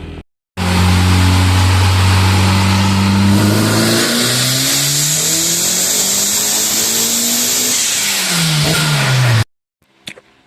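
Turbocharged Honda G23 engine revving hard on a dyno, a loud sustained pull with pitch climbing then falling over about nine seconds before cutting off abruptly.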